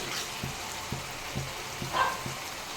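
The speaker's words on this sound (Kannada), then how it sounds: "ತುಂಬಾ ಚೆನ್ನಾಗಿ ಫ್ರೈ ಆಗಿದೆ ಟೊಮೊಟೊ ಎಲ್ಲ ನುಣ್ಣಗೆ ಆಗಿದೆ" Tomatoes frying down in a pan for a spicy tomato gojju, giving a steady soft sizzle and crackle with faint regular clicks underneath, close and continuous without talk.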